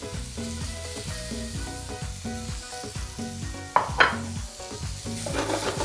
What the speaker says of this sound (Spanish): Esto es para que se cocine nuestros zapallitos.